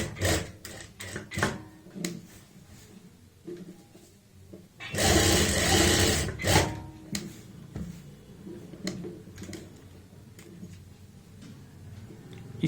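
A sewing machine stitches a border strip backed with buckram, first heard as faint ticks and rustles, then as a loud steady whirring run lasting a couple of seconds before fading back to light handling noises.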